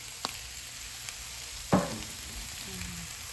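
Green onions going into a pan of cooking Brussels sprouts, a soft background sizzle broken by a couple of small clicks and one louder scrape or stir near the middle, fairly quiet and without speech.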